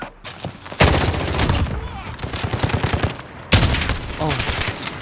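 Rapid automatic gunfire from a shooter video game, dense close bursts of shots in two long volleys, loud and continuous, with a brief quieter pause at the start.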